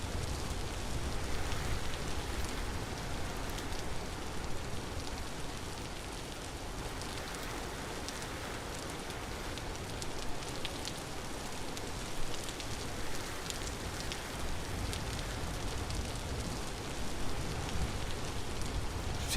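Steady rainfall ambience from the Vintage Story video game during a permadeath run, a continuous dense hiss of drops on surfaces with a constant loud level throughout and no talking.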